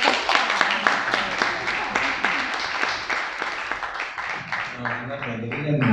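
Applause from an audience at an Italian cultural tribute performance, a dense steady patter of clapping lasting several seconds, tapering slightly near the end while voices begin to talk over it.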